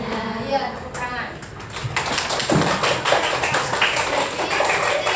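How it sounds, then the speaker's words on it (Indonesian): Schoolchildren clap together in a primary school classroom, a burst of rapid, uneven hand claps and taps rising and filling the room, with children's voices mixed in. "Ya, tepuk tangan."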